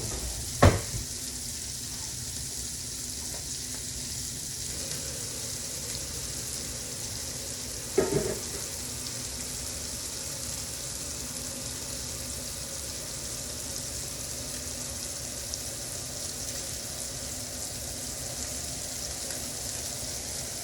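Meatballs sizzle steadily in a frying pan on a home stove, a continuous even hiss of fat throughout, broken by two brief clanks of utensils or cookware; no one speaks.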